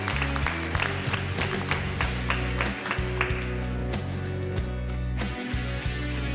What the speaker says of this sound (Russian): Аплодисменты погромче.